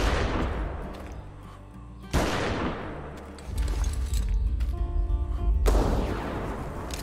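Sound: gunshots at Giganotosaurus, dinosaur video game

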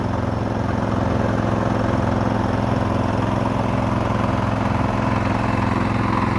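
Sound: rotary tiller engine tilling soil

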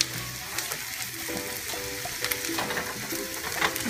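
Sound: black rice and toasted almonds cooking in a pan

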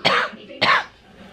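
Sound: coughing

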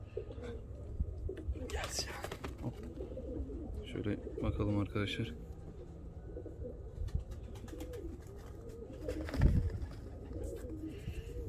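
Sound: Bulgarian vangu pigeons cooing

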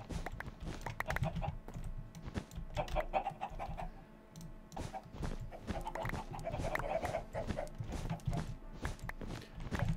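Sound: chickens clucking in Minecraft video game

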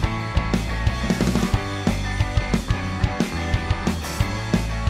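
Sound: drum mix of a song with guitars

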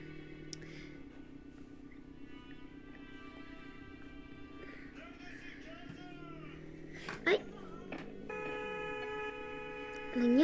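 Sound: phone ringing in Roblox video game

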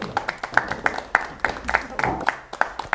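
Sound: applause for a guest on a TV show

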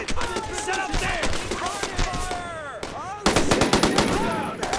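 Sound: machine gun fire, Brothers in Arms: Road to Hill 30 video game

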